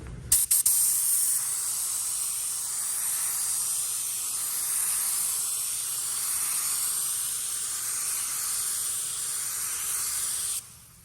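Paint spray gun with fluid fully open and air at 12 spraying a panel from a few inches away: a continuous loud, even hiss lasting about ten seconds, starting and stopping abruptly with trigger clicks.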